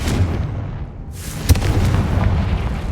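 A Confringo blasting spell in the Hogwarts Legacy video game goes off as a booming burst, then a sharp crack and a rumbling tail, loud and close with no one talking.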